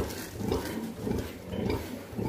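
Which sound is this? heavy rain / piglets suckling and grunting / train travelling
piglets suckling and grunting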